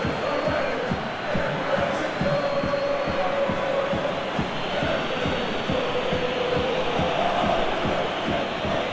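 A large football stadium crowd roars steadily through the whole stretch, a dense, loud wall of cheering with a regular thumping beat running underneath.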